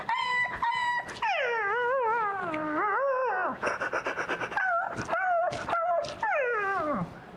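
A man mimics an excited dog running up when called, with rising and falling whimpering howls, yips and panting bursts, loud and close, filling the whole stretch alone.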